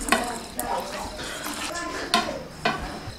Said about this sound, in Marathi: हे पूर्णपणे व्यवस्थित हलवून घेऊया आपण आता